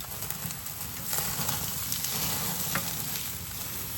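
Wagyu ribeye steaks searing in a hot pan give a steady, close sizzle of dense crackling that holds even for the whole stretch, with no voices.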